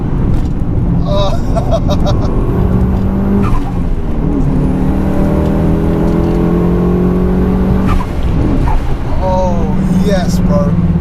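A 21-year-old Mitsubishi Evo 6 drives hard on open roads, its engine droning loudly from inside the cabin, climbing through revs with gear changes, while occupants talk and exclaim over it.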